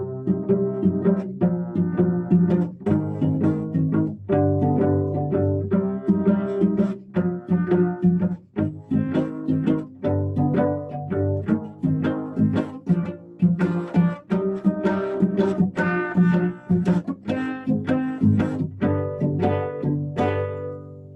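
A cello plays a steady sequence of chords, bowed notes changing at a regular pace, alone and fairly close.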